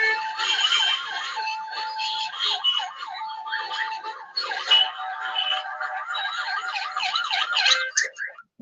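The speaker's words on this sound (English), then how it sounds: "No one moves out of the way, even for an ambulance." An ambulance siren wails on a street in Port-au-Prince, Haiti, its rising and falling tone cycling continuously and fairly loud throughout, with brief gaps and shifts in pitch.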